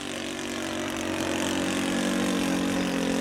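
OS 95 model engine running in a Seagull D60 Gipsy Moth model plane, a steady buzzing drone with a low harmonic hum, continuous and fairly close, no talk.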